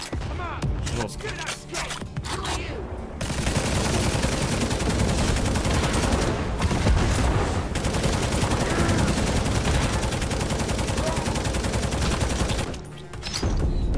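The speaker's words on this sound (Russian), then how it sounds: "Не, прикольно на самом деле пулемет." Machine gun fire in Necromunda: Hired Gun, a loud sustained stream of rapid automatic shots running for about ten seconds with brief pauses and game ambience around it.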